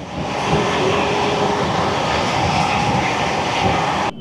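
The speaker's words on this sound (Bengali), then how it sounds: "এই আরা জাংশনের পর থেকে ট্রেন যে চলতে শুরু করেছে এখনও পর্যন্ত কিন্তু থামেনি" The Himgiri Express runs on rails at speed, a loud, steady rumble and hiss of wheels and carriage noise heard from inside, unbroken for several seconds before cutting off abruptly.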